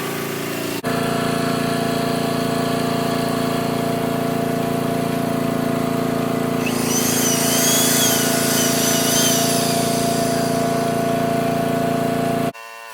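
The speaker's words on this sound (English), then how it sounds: "I'm going to go plug my electric drill into it and see if it'll spin up." A junkpile generator engine drones steadily throughout, and midway an electric drill plugged into it whirs up with a rising whine before everything cuts off abruptly.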